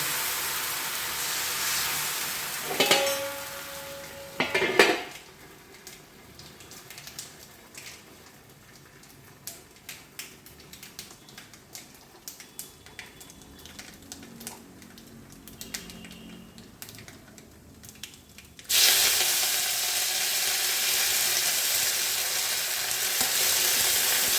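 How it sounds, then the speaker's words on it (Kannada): Hot oil sizzles with bursts of sharp crackling and popping from mustard seeds and chana dal spluttering in a pan as tempering for chutney, quieting in the middle before a loud sustained sizzle returns. "ಚಟ್ನಿಗೆ ಒಂದು ಒಗ್ಗರಣೆ ಕೊಡೋಣ ಕಡಲೆಬೇಳೆ ಸಾಸಿವೆ ಹಾಕಿದೆ ಅದರಲ್ಲಿ ಪಟ ಪಟ"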